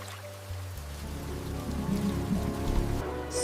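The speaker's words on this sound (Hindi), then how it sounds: "पहली बारिश की वो पहली बूंद और मिट्टी का वो सौंधापन।" Rain falls steadily as a broad, even hiss over a low rumbling background that builds slightly in the middle, with no voices.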